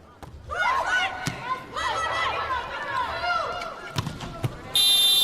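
During a women's world championship volleyball match between China and USA, a loud electronic buzzer blares near the end to signal a net touch, following crowd chatter and court thumps.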